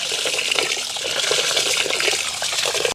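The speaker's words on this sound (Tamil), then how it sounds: "இப்போ நாங்கள் நல்ல வடிவாக கழுவி எடுப்போம்." Rice being washed by hand in water for a squid biryani in a village kitchen, a continuous sloshing, splashing rush of liquid, close and fairly loud, with no talking.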